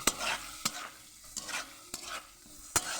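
Chopped coriander being stirred in hot oil in a pan while cooking chicken, with five sharp spoon scrapes at regular intervals over a soft oily sizzle, close and alone without talk.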